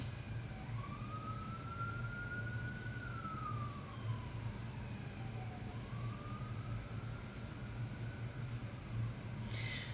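A distant emergency vehicle siren rises and falls in a slow wail over steady low traffic rumble, faint and far off throughout with no talk.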